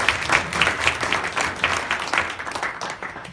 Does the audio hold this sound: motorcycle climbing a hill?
no